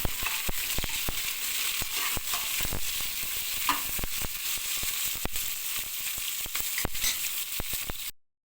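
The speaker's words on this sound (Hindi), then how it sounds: "सब मसाला ला सब्जी में एक डाल के भूंजा हूँ" Soybean chunks fry with spices in a pan, producing a constant sizzle punctuated by regular scraping clicks of a spatula stirring the mixture, close and fairly quiet, ending abruptly.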